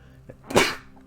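A single short, sharp video game sneeze sound effect, loud and close, with a faint breathy lead-in and quiet room tone around it.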